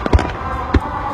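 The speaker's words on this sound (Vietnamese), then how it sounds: "mỗi lần bắn pháo hoa của Nhật kéo dài 1 tiếng hoặc 2 tiếng" Fireworks at a Japanese summer Obon festival give two loud, deep booms about half a second apart over a low, steady background rumble.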